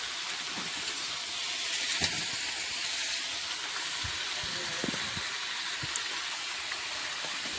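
Vegetables with small prawns, salt and a little tomato frying in a pan, a steady broadband sizzle and hiss running throughout with a few faint clinks and knocks from stirring, close and even.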